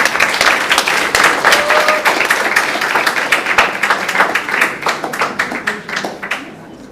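Audience at a sickle cell disease awareness event in Jamaica applauds a foundation representative, steady dense clapping that gradually thins and fades toward the end.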